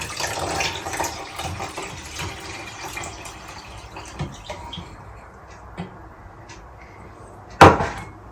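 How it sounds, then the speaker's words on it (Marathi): Water splashes and gurgles as a glass of it is poured into a pot for spiced buttermilk, a fairly close, uneven stream that fades, followed by a single sharp clank near the end. "याच्यामध्ये आपण 1 ग्लास पाणी टाकूया."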